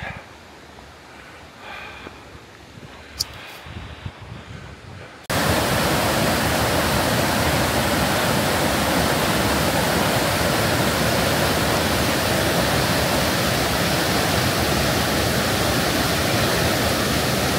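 A powerful waterfall along the Upper Dewey Lake Trail near Skagway, Alaska, roars in as a loud, dense, continuous rush after a few seconds of quieter trail ambience with faint breathing.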